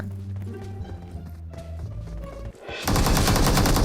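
Rapid automatic gunfire in the video game PUBG Mobile bursts in loud and continuous after a stretch of quieter game sounds and movement.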